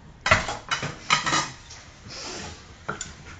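A pestle pounds bamboo shoot salad in a mortar, giving about five sharp, uneven knocks with a wooden, clattering edge and brief pauses between them, close by and fairly quiet.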